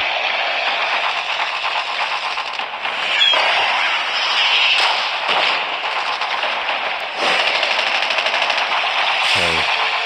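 Continuous rapid automatic gunfire from a Call of Duty Mobile match, loud and sustained across the whole stretch with denser bursts near the start and end.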